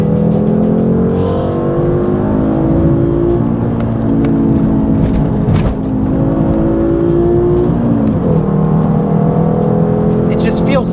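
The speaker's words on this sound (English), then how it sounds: "I just want to thrash on this car. I'm still shifting at my usual red line." A modified VW MK5 Rabbit hatchback engine revving hard, its pitch climbing and dropping through gear shifts near redline, loud and close from inside the car with the driver talking over it.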